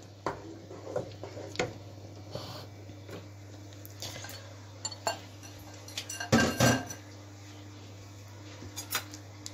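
A serving dish and cooking pots handled in a home kitchen while preparing kishk, scattered clinks and clatters with a louder clanking burst midway over a steady low hum.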